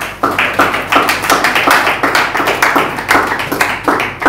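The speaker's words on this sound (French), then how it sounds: "Acclamons la parole de Dieu" A church congregation claps together in steady rhythmic applause, many hands striking in a fast even beat that fills the room for several seconds, loud and close, with no talking over it.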